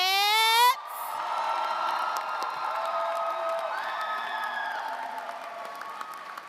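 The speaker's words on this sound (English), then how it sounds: "Can we get one big round of applause for our graduates?" Graduates at a university achievement ceremony are met with crowd applause and cheering. A brief tonal sound opens it, then a broad roar of clapping and whoops follows, sustained and fairly loud, slowly easing by the end.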